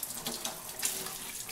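Warm tap water runs steadily into a sink for washing makeup brushes, a close, continuous splashing hiss with no talk.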